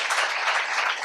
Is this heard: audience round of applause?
yes